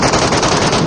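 A rapid, loud burst of automatic gunfire from the shooter video game Payload, close and continuous for just under a second with no talking.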